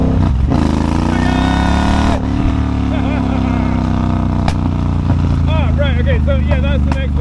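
A Triumph Bobber motorcycle engine runs loud and steady, its tone dropping as the throttle rolls off for a gear change, then pulling on again while someone talks over it.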